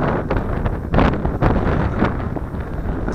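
Gusty wind buffets a microphone outdoors while a small quadcopter drone flies, producing loud close rumbling bursts and flutter that swell and fade irregularly, with no talk.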